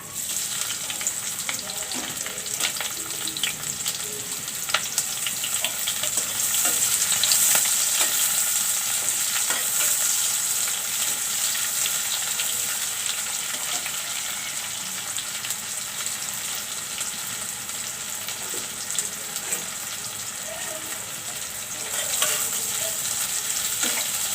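Chopped onions frying in hot oil for a beef tripe curry, a steady dense sizzle running unbroken and close, with occasional faint stirring and no talk.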